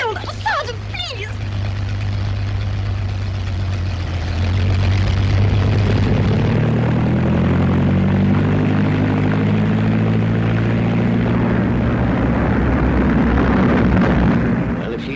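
Droning propeller engine of a 1939-era test plane taking off, loud and continuous, rising in pitch as it revs up, with talk over it.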